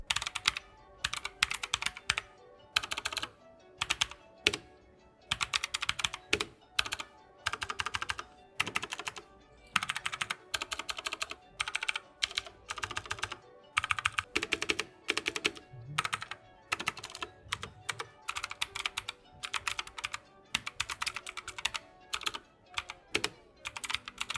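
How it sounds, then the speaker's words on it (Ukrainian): Typing on a HATOR Rockfall 2 Mecha mechanical keyboard: steady runs of close, crisp key clicks and clacks in quick bursts with short pauses, heard alone without talk. "давайте проведемо невеличкий тайпінг-тест."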